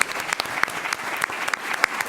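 Audience applause fills a forum at the Columbus Metropolitan Club, a steady wash of clapping hands with a few sharper claps standing out, filling the whole short stretch without talk.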